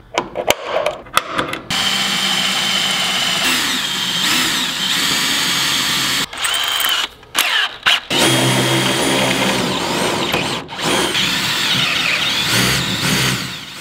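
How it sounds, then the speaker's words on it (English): A power drill bores 3/8 and 1/2 inch holes in a Toyota Tundra truck bed. Loud, close whirring bursts are broken by short pauses, with metallic grinding as the bit bites. "I'm just going to proceed and center punch these two 3/8 holes, as well as this 1/2 inch hole down here."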